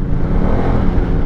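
A Ducati superbike engine drones steadily while riding, a dense, even rumble with wind noise that holds at a constant level throughout the short stretch.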